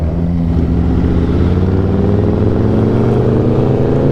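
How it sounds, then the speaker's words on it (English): Straight-piped Aprilia RSV4 superbikes warming up, a loud, steady engine drone with deep low harmonics that rise slowly in pitch, continuous throughout with no talking. "The bikes, yeah, the bikes are getting warmed up already."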